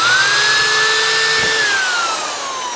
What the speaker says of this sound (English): just going to try to use the screwdriver to make some holes